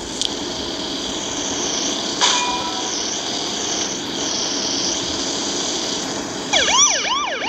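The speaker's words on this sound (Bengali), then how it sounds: "সাইরেনটা অন করে নে" A police car siren in a car simulator video game, a loud electronic wail that rises and falls in quick repeated sweeps near the end, over a steady engine-like hum.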